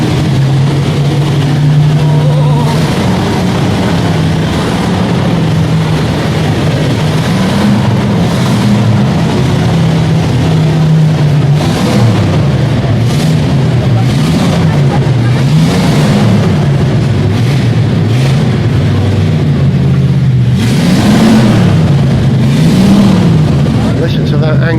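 A deep car engine rumbles and growls steadily, revving up and down in waves, with a crowd murmuring in the background.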